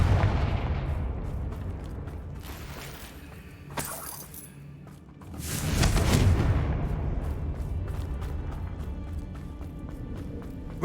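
Confringo spell blasts in the Hogwarts Legacy game: a sharp crackling burst early on, then a heavier booming explosion that rumbles and fades over continuous game ambience.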